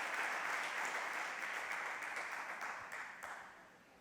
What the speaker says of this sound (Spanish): os da un aplauso